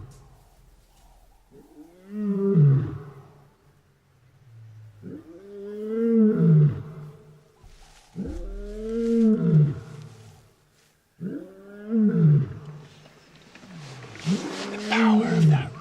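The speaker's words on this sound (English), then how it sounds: "The power of that roar is just crazy." A wild animal roars powerfully four times in a slow, rhythmic series of deep, heaving calls, loud and near, each followed by grunting breaths and faint echo.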